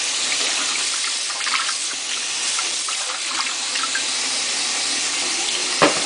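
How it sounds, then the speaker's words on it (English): Cold tap water runs into a kitchen sink with a loud, steady hiss and splash that keeps going without a break, close by and with no talking. "put it in running cold water to cool it off"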